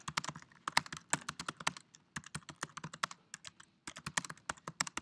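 Rapid typing on a computer keyboard, close and crisp, in quick bursts of keystrokes with one short pause midway, no talking.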